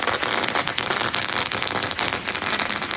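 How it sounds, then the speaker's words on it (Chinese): Firecrackers bursting at a royal boat (wang chuan) farewell ceremony by the sea in Taiwan, a dense, loud, continuous crackling with sharp pops throughout and no talk. "炮声响起，王船闪出阵阵的火光"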